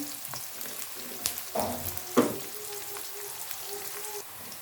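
Onions frying in a pan for an aloo baingan dish, a steady soft sizzle with occasional crackles and stirring scrapes, close but fairly quiet.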